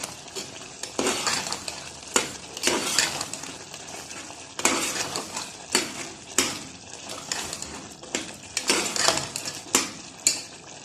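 Mint leaves for mutton biryani are sautéed in a pan, with a sizzle running underneath repeated scraping and clinking strokes of a spoon against the pan, close and fairly loud, and no talking.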